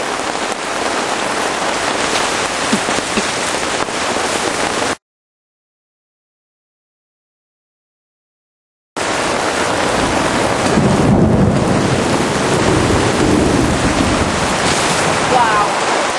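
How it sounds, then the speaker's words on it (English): A heavy thunderstorm drums rain hard and loud on a campsite tent, a dense roar of drops with rumbling thunder. A few seconds of dead silence break the downpour partway through. "has it ever rained this hard?"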